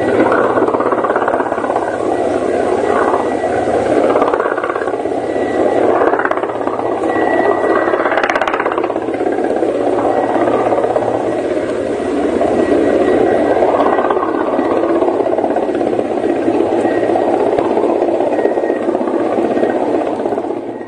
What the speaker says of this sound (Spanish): Lo que ves en pantalla es una grabación hecha por una vecina, un habitante de la zona, sobre la caída del helicóptero.